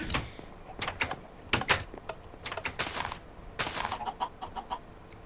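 Many chickens in Minecraft cluck in quick, scattered bursts, with sharp clicky game noises between the calls.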